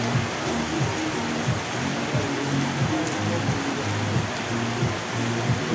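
Steady rain falling in Koktebel, a dense continuous hiss of drops pattering on surfaces, loud and close throughout, with a low rumbling undertone and no voices.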